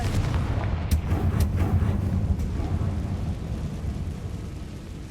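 A Confringo blasting spell goes off in Hogwarts Legacy, a loud, deep rumbling explosion with sharp crackling bursts that rolls on and slowly fades over several seconds.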